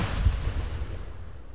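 A grenade goes off during a firefight in Arma 3, heard as a loud, deep rumbling blast that slowly fades without breaking off.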